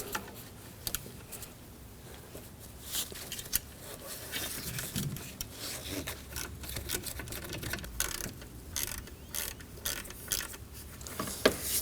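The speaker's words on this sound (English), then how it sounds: "We need to loosen up the nut for the tensioner pulley. We can use a 12mm." A 12mm ratchet clicks and works at the tensioner pulley nut on a 2003-2006 Subaru Baja engine, giving irregular close mechanical ratcheting and clanks throughout.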